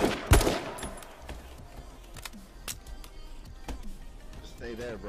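Video game gunfire, one sharp close shot followed by scattered lighter pops and clicks under someone talking, with a faint background game soundscape.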